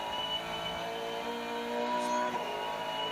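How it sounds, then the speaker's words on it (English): A V8 Supercar brakes hard at Symmons Plains, its engine note dropping through downshifts with mechanical gear lash, loud and continuous race-car noise throughout with no talk. "And we can hear there the braking effort from Whincup."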